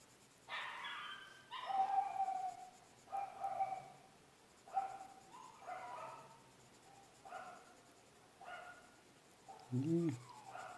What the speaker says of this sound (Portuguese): Será que vocês estão escutando o cachorro latindo?